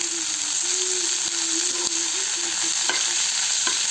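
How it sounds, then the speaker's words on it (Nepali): Tomatoes fry and get stirred in a pan for paneer curry, giving a steady close sizzle with a few sharp scrapes and clicks of the spoon against the pan. "यो टमाटर पनि एड गर्छु हो यसमा यसलाई मजाले भुट्छु"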